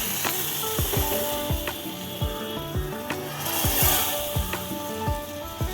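Sugar caramelizing in a pan for caramel milk tea, stirred steadily, giving a close scraping, clicking rhythm of utensil strokes over a soft sizzle, with no talking.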